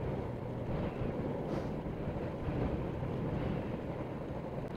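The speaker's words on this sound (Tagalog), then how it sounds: "Lakas pa ng hangin ah." Strong wind roars steadily and loud against the microphone along a narrow road on the Megadike, with low rumbling road noise under it throughout.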